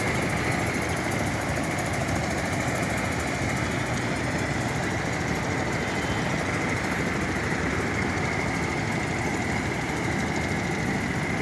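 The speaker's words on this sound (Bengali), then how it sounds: "ট্রলার যাচ্ছে।" A trawler boat's engine rumbles steadily as it passes on the river, a constant mid-distance drone with no voices.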